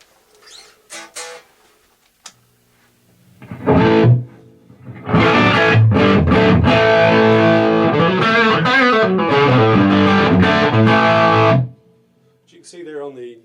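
Electric guitar played through a modded Marshall JCM800 2210 amp on its distorted channel, with no reverb: a short burst of chords, then a longer run of crunchy, saturated riffs, loud and close, with brief quiet picking at either end.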